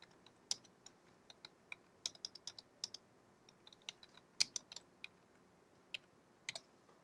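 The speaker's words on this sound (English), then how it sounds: "we are going to type the words" Typing on a computer keyboard, with quiet, uneven clicks of single keys and short bursts spread across roughly seven seconds in a still room.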